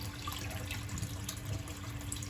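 Hot water pours steadily from the copper coil outlet of a wood-fired hot tub, a continuous close splashing rush with no talking.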